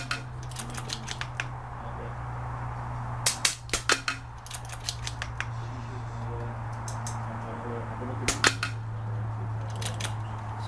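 Sharp air gun shots fired with iHunter pellets, a series of crisp cracks in small clusters over a steady low hum, each with a brief metallic snap.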